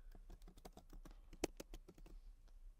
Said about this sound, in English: You'll type in your name and your email.